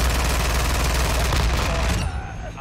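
A loud, continuous burst of rapid automatic fire from an FTAC Siege gun in MW2, close and dense, cutting off abruptly near the end.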